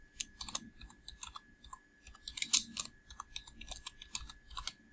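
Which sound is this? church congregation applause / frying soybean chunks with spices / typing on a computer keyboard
typing on a computer keyboard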